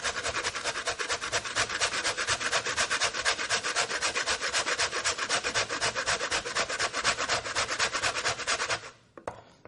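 Frozen ginger scraped against a grater in rapid, even back-and-forth strokes, a steady close rasping that continues for about nine seconds and then stops abruptly.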